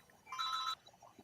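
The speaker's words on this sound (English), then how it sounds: "Phone ringy dingy." A phone ringing, one short electronic tonal ring that rises clearly over faint background murmur and then stops.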